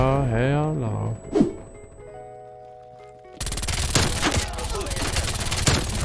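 Rapid bursts from a maxed-out MAC-10 submachine gun in the shooter game Black Ops Cold War, dense loud firing after a quieter stretch with a tone and a brief voice, with a player talking over it.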